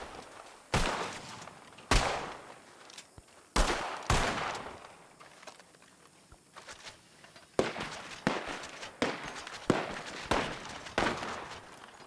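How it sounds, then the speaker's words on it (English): Sharp gunshots fired in a detective training exercise, loud close bursts spaced irregularly, some single and some in rapid clusters, with no talk over them. "Nobody be alarmed by the gunshots."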